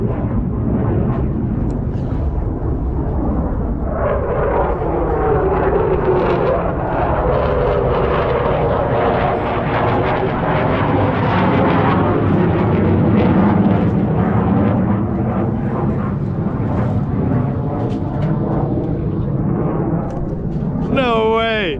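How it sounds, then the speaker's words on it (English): Two F-16 fighter jets flying loops overhead while out sailing, a loud continuous roar that swells and shifts over about twenty seconds, dense and close, with a voice heard speaking partway through. "we got an F-16. There's 2 of them. They're doing loops over me."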